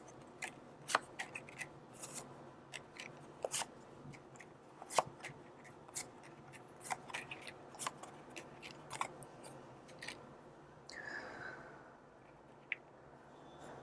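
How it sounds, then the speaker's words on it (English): Tarot cards are pulled from a deck, producing a series of faint, sharp card snaps and slides scattered irregularly, with soft rustling in between and no talking. "Let's pull out the rest of these cards"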